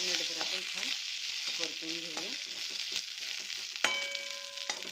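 Steady sizzling and crackling of chilies, coconut and garlic frying in a pan, with occasional clinks of stirring; no voices.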